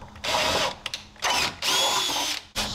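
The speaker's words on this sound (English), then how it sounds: "Now go ahead and drill the holes." Power drill boring holes through a downrigger mounting bracket on a Tracker boat, several loud whining bursts with brief pauses between them and no speech.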